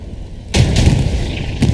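A Sherman tank's 75 mm gun firing at a Panzer IV in the WWII game Hell Let Loose, a loud sudden boom with a rumbling tail and a second fainter blast near the end.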